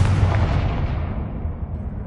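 Confringo blasting spell from the Hogwarts Legacy video game going off as one loud booming explosion that rumbles and then fades away over about two seconds, with no voices.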